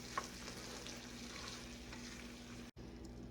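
Homemade baked beans with tomato puree simmer and bubble in a pot while being stirred, giving a steady close sizzle with a soft clink near the start and a brief dropout near the end.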